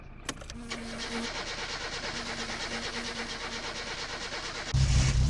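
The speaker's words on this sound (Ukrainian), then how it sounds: "Цікаво, машина хоч заводиться." A Satsuma car engine in My Summer Car cranks over with a rapid, pulsing starter whir, then catches and settles into a steady idle, close and fairly loud with no talking.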